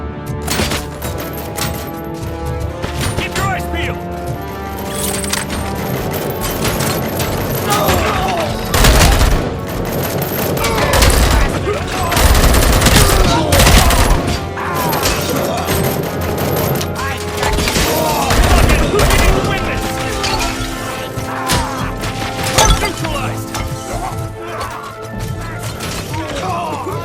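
Continuous gunfire and explosive crashes during a combat encounter in the video game RoboCop: Rogue City, with dense bursts of shots and booms layered over a game soundtrack for the whole stretch, loud and close.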